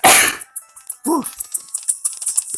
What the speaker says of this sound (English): That is a sneeze.